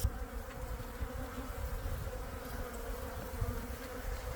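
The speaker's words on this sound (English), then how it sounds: "We now have a bee infestation. They smell the fresh water." Bees swarm around a boat, drawn to its fresh water, making a steady, close insect drone that hums on without a break and holds level throughout, with no voices.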